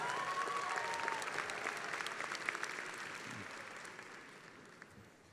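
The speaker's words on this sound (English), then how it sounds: "I want everyone to cheer for the Panthers" A commencement ceremony crowd at the University of Wisconsin–Milwaukee applauding in a large hall, dense steady clapping that gradually thins and fades.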